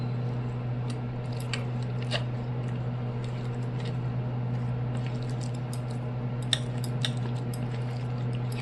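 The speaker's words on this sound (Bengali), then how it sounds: "এবার আমি মাছটাকে ভালো করে মাখিয়ে নেব।" Small bata fish are worked by hand with turmeric and spices, giving soft, intermittent squelches and wet pats over a steady low background hum.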